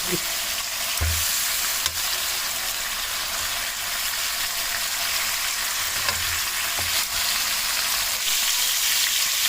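Chicken fries in a pan over a medium-high flame, giving a steady, close sizzle that runs throughout, with a few soft low knocks as the pieces shift.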